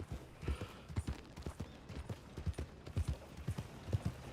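Horse hooves clip-clop at a steady walking rhythm in Red Dead Redemption 2, close and fairly quiet, each footfall a distinct sharp knock repeating about twice a second.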